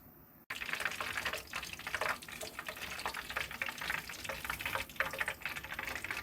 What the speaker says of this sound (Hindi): ऑयल को गर्म करेंगे, लो फ्लेम पर चिकन वॉन्टन को फ्राई करेंगे